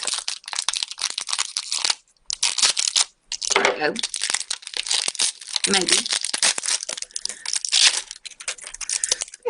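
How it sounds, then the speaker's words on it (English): Crinkly plastic wrap twisted and worked off a Scentsy fragrance flower, close-up crackling and crumpling in bursts with short pauses, a voice speaking briefly over it. "I just kind of twist them like that and kind of work that plastic wrap off"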